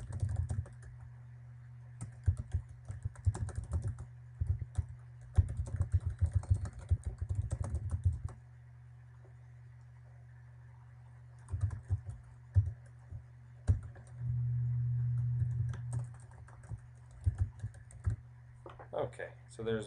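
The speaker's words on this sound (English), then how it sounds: "so I will type something in here" Typing on a computer keyboard in bursts of rapid key clicks, with pauses between runs, close and moderately quiet against a faint background hum.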